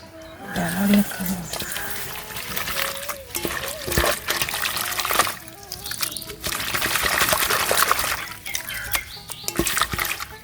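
Water trickles and splashes as freshly picked broad beans are washed by hand in a home kitchen, with steady pouring and intermittent splatter over about ten seconds, fairly loud and close.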